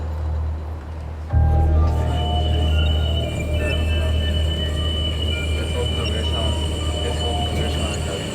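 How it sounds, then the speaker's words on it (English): A Jerusalem tram rolls along its rails with a steady broadband rumble and rail noise. The rumble starts suddenly and keeps up at a fairly even level. "The only tram line of the city crosses Jerusalem from the southwest."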